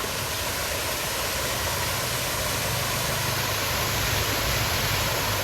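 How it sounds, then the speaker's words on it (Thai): An artificial waterfall in a winter flower garden in Chiang Rai, Thailand, pours in a steady, full rushing roar that stays close and even throughout, with no voices. "น้ำตกสวยจริง"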